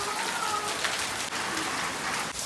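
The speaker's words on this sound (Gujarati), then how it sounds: "વરસાદ ચાલુ ચાલુ છે બંધ જ નહીં થતો" Steady drizzling rain that has kept falling since morning, an even, continuous hiss of drops on surfaces, fairly close and unbroken throughout, with no voices.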